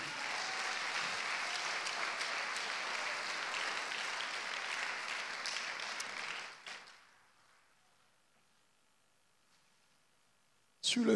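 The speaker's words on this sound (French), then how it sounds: "Si tu es béni, acclame Jésus." A church congregation applauds and cheers loudly and continuously for about six seconds during a French-language sermon, then the crowd noise fades into near silence.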